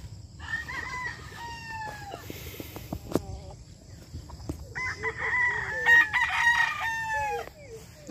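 White Boston chickens at a gamefowl farm crow and cluck. Several roosters crow loudly, one after another, over steady clucking in the background, and a voice can be heard faintly.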